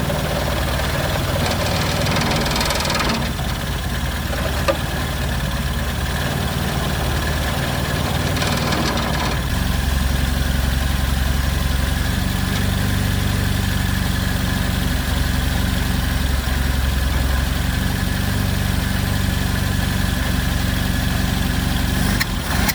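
A Honda N600 sedan engine that sat outdoors for 16 years runs and idles, a loud, steady, close-up rattling drone that continues for the whole stretch and carries a slight knocking edge, with no talking.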